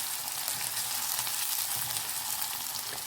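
Ingredients hitting hot oil in a pan while cooking pithla, a gram flour curry, giving a continuous loud sizzle and frying hiss without pause.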